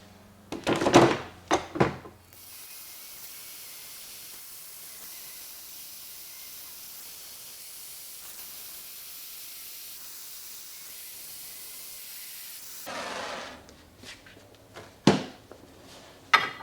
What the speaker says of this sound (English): I'm going to apply some heat to this nut